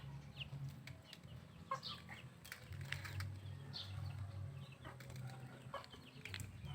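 Chickens on a rural Philippine farm cluck intermittently, brief soft calls scattered over a low steady rumble of background noise, fairly faint and some distance away.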